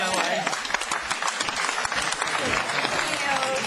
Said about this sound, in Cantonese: 俾啲掌聲兩位